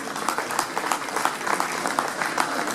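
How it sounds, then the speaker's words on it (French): An outdoor crowd at a half-marathon event in Beaune gives dense, continuous applause. It sounds steady and full throughout, without any voices coming through clearly. "vous pouvez applaudir monsieur Jérôme Bidault"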